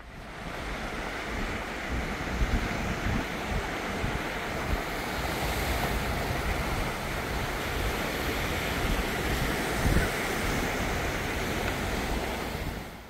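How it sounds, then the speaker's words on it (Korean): Sea waves washing over a pebble beach along the Seuldo coastal path in Ulsan, a steady hissing surge with a crackling rattle of stones, wind noise mixed in and occasional louder swells, with no voices. "특히 해변이 몽돌로 되어 있어서 파도 소리까지 청량합니다."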